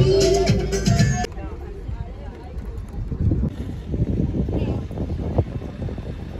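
Wind buffets the microphone on the open deck of a boat cruising through the Sundarbans, a rough low rumble with gusty swells and a steady engine drone, while voices are faintly heard.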